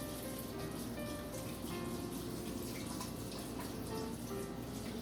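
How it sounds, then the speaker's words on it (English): Tap water running steadily into a sink while hands are washed with soap, a continuous close splashing flow with faint dripping texture throughout, no voices. "I'm gonna wash my hands."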